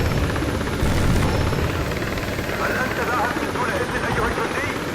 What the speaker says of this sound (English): Now let's chase this helicopter down and tear him a new one.